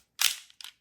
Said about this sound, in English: Load our round.